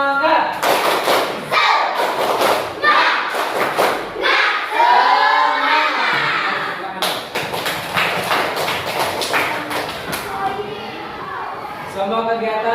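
Parents clap a rhythmic 'tepuk semangat' cheer at a school class activity, a run of sharp, fast claps in patterned bursts, loud and close, with voices talking over and between them.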